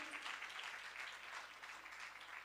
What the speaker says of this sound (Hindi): Give a big hand for Holy Spirit